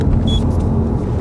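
Straight-piped Audi S3 with its exhaust valves open, a loud, steady low drone filling the cabin from inside the car, with no speech.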